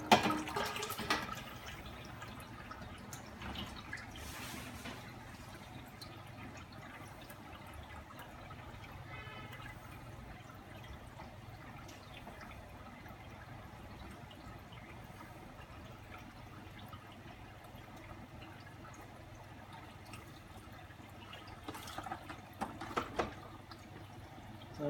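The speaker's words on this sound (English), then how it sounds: "I'll put even some more water in this pot." Water is poured into a pot beside an aquarium during snail removal, a soft continuous trickle and splash that runs steadily at low level, with a few louder sloshes near the start and end.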